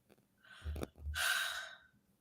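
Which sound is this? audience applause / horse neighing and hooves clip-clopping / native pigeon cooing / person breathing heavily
person breathing heavily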